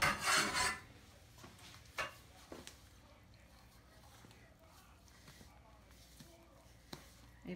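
Tamale dough mixed with hot lard is stirred in a bowl, giving a soft rasping, rubbing scrape at the start and then sparse quiet scrapes and taps, close but faint.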